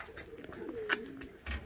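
Pigeons at a Valencian pigeon loft give soft low coos with a few brief calls over a quiet background, with no talking.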